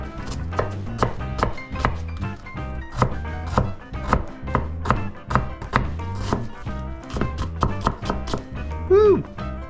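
A knife chops a white onion on a cutting board in quick, close, regular thwacks that keep a brisk rhythm, with a brief voice near the end.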